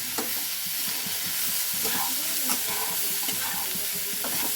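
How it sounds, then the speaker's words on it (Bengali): Fenugreek greens fry in a pan with a loud, continuous sizzle and hiss. Stirring scrapes and rustles sound close by throughout. "এটাকে ভালো করে নেড়ে নেব।"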